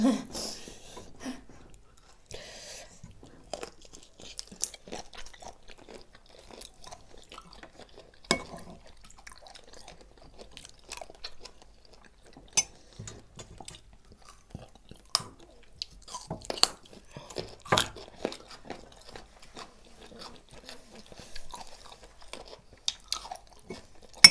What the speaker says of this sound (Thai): เคี้ยวเนื้อหนึบมาก เด้งมากเลยเนาะเด้งดึง